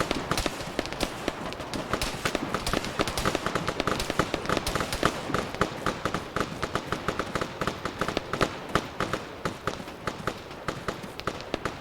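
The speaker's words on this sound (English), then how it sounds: "Bullets whizzing by your head." A dense Arma 3 firefight rages as rapid sharp cracks of passing and impacting bullets pile up nonstop, loud and close, forming a continuous crackling barrage with no speech.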